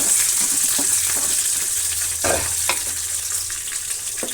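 Chopped onion and curry leaves, with mustard seeds, frying in oil for a sambar tempering make a loud, close, steady sizzle, with a few louder bursts as the mixture is stirred, and no talking.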